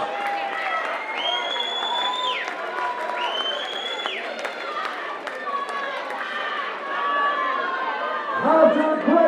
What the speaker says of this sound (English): please, a huge round of applause to both boxers in that contest